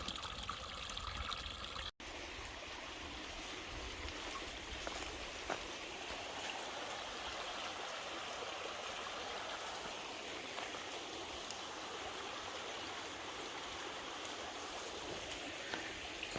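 A small stream flows steadily in the open, a continuous broadband rush and trickle that holds at an even level throughout with no voices.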